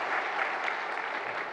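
Church congregation applause fills the space as a dense, even wash of many hands clapping together, moderately distant and sustained for the whole moment without any voices.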